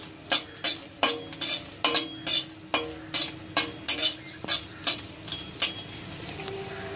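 Dry red chillies tossed in a dry wok, with a spatula striking the pan in sharp, regular metallic knocks about twice a second over a faint background.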